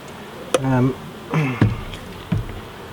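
Honeybees buzz around an open beehive during a hive inspection, with three short, loud, close buzzing bursts passing by against a quieter background.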